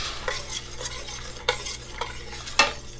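A utensil stirs melted butter, orange juice, sugar and cardamom pods in a pan, with light sizzling and repeated scrapes against the metal, including a sharper clink near the end, all close and without speech.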